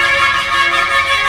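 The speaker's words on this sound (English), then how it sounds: "Constant honking." Continuous, overlapping car horns blare loudly in busy Jaipur traffic, layered into a steady wall of honking with no pauses and no voices.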